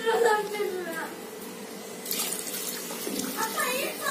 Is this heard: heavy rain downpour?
no